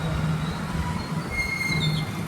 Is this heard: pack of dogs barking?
no